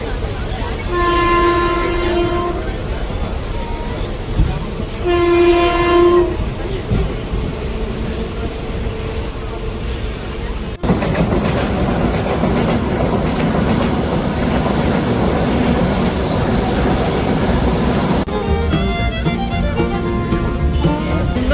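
A crowded moving passenger train rumbles steadily throughout, with two loud horn blasts early on and rattling carriage noise building later.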